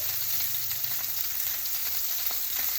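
Butter sizzles steadily on a steak frying in a pan, a constant close hiss and crackle with no talking.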